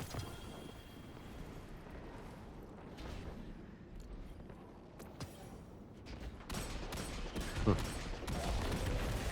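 Gunfire in the video game Destiny 2 crackles in faint, scattered bursts, with heavier volleys in the closing seconds over low background game noise.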